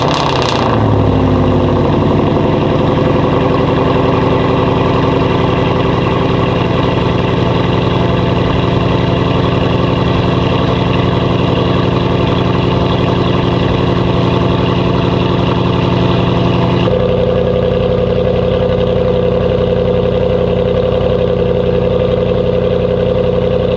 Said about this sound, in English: This is going to be a cold start.